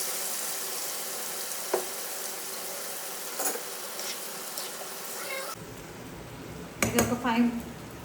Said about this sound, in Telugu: ఇది ఒక 5 మినిట్స్ చికెన్ నూనెలో వేగిన తర్వాత